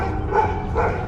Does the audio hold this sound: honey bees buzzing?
no